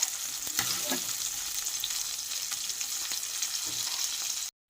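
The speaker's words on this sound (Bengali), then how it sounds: "তবে মাছটা আস্তে আস্তে ভেজে নিচ্ছি" A fish head fries slowly in hot oil, giving a steady close sizzle with faint scraping and stirring. No one speaks, and the sizzle cuts off abruptly at the end.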